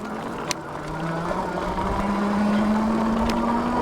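A Rattan Pathfinder ST electric bike riding on throttle alone gives a steady motor whine that climbs slowly in pitch as it speeds up, over constant road and wind rumble.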